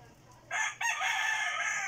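A rooster crows from near a house, a loud drawn-out call that breaks briefly and then carries on strong to the end, with no talking over it.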